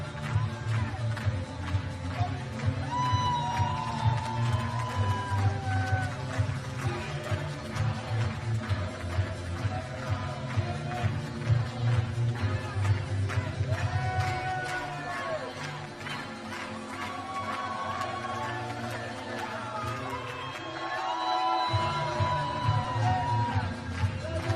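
Darts crowd at the 2019 Austrian Darts Championship cheering and whooping after a match finish. Sustained loud crowd noise, with yells and chants rising and falling over about twenty-five seconds.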